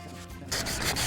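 A power sander runs over gray, weathered teak wood, starting as a soft rub and then swelling into a close, loud, steady abrasive hiss with a slight pulsing.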